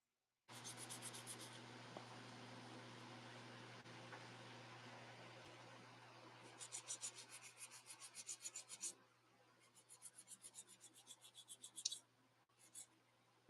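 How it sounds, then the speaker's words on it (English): Rhythmic snipping and rasping of scissor blades cutting through material, close and fairly quiet, in short repeated bursts with pauses. "I'm using bigger scissors."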